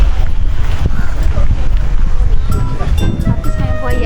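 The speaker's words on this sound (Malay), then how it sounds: "Angin je." Wind buffets the camera microphone outdoors in Sekinchan, a continuous low rumbling roar with gusty swells and some faint background activity.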